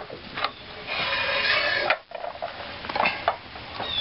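Metal frying pans are handled and shifted about while goods from an estate auction are sorted, giving close scraping, rubbing and light clattering with a brief pause midway.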